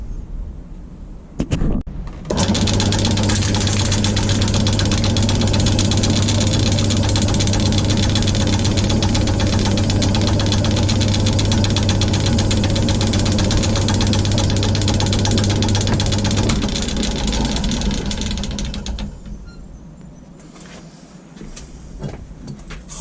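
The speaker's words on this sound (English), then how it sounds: "I'm just going to turn the lathe on." A wood lathe spins up while turning a skull-topped walking stick, a loud steady mechanical whirr with a constant low hum that runs alone for about fourteen seconds, then winds down and fades.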